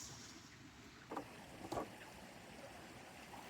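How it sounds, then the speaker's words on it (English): A river running over rocks among ferns: a steady, faint rushing wash of water heard from close by, broken by a couple of brief soft knocks. "It might be a little noisy down here with the water running"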